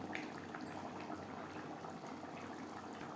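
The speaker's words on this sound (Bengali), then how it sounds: "গ্রেভির সাথে মাছ ও মাছের মাথা আরও 3-4 মিনিট রান্না করব।" Chela fish and fish heads simmer in a curry gravy with eggplant, bubbling steadily and close by in a continuous, even burble with no voices.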